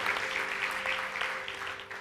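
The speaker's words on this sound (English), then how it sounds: "could you guys just give these guys a round of applause?" Audience applause for musical performers at a church worship gathering, a steady wash of clapping with a faint tonal hum underneath, sustained at moderate level throughout.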